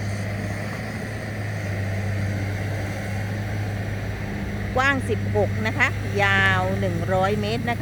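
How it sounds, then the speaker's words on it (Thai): A heavy diesel excavator building a road drones steadily in the background throughout, while someone talks over it in the second half. "ตอนนี้เสียงจะดังนิดนึงแมคโครกำลังทำถนนนะคะ"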